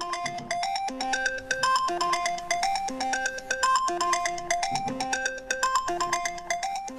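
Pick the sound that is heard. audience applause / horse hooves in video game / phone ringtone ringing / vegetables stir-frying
phone ringtone ringing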